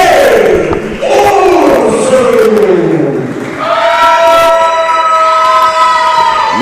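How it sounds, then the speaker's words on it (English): Wrestling crowd reacts loudly to a challenger from Mobile, Alabama, with a dense roar of shouting and whistling that swells and dips, mixing jeers and cheers, then gives way to sustained tonal whistles and horn-like calls. "Little mixed reaction from the crowd here for him."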